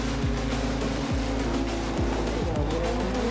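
Rally cars launch off the start line at Table Mountain in the FR Legends video game, with engines droning loudly and repeated low downward engine sweeps as the cars shift through gears together.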